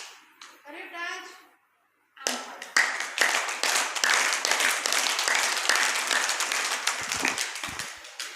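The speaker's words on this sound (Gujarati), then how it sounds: "આવી 200 તાળી પાડવાની રોજ" Children at a summer camp clap their hands together in a loud, fast, sustained burst after a brief spoken instruction; many small hands clap closely in a rapid ragged rhythm that thins slightly near the end.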